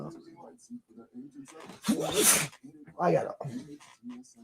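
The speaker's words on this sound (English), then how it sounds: "I had to sneeze." A single sharp, breathy sneeze bursts out close to the microphone, with someone talking just before and after it.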